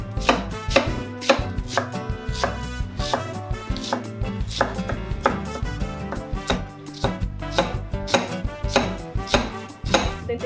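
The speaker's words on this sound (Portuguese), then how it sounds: "vou começar, como sempre, picando aquela belíssima cebola" A knife chops an onion rapidly and steadily on a cutting board, crisp close knocks in a fast rhythm with no talking.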